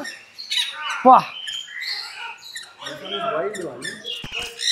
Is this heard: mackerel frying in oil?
no